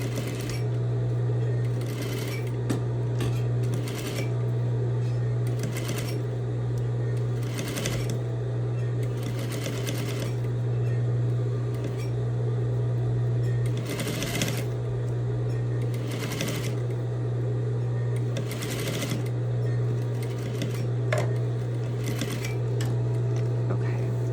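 Sewing machine running steadily while stitching a bias tape seam, trapping the seam allowance layers about 1/8 inch from the seam; a continuous mechanical hum with brief pauses and speed changes, close and fairly loud throughout.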